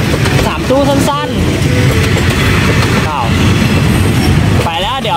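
A short three-car train rolls past with its lights on, a steady broadband rumble and rattle lasting throughout, with people talking over it.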